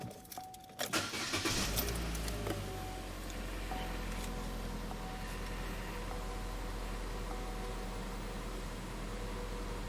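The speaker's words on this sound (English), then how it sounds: "So now I'm gonna start the engine." A 2013 Chevy Cruze 1.8L engine is started: keys jingle, the starter cranks briefly, and the engine catches and settles into a steady, close, even idle.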